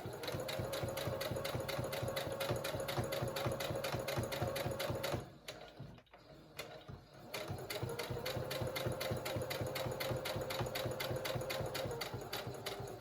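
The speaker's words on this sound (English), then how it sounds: "I'm going to just stitch right along the edge." A sewing machine stitches steadily along the edge of a fabric face mask with a rapid, even needle rhythm, briefly dropping away for about two seconds midway before running again.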